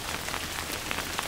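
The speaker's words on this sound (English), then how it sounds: "It's raining." Steady rain pattering on surfaces beside the Jordan River in Israel on a cold November day, a continuous close hiss with occasional louder individual drops standing out.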